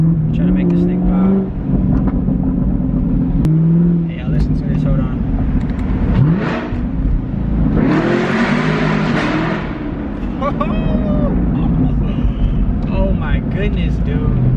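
A sixth-generation Chevrolet Camaro fitted with a Borla ATAK exhaust drones and rises loudly as the engine revs from inside the cabin, with someone talking over it throughout.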